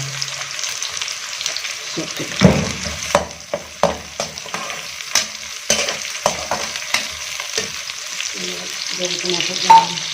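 Onion, ginger and garlic fry in a pan for aloo gobhi with a steady sizzle, broken by repeated stirring scrapes and clatters of a spoon against the pan, up close.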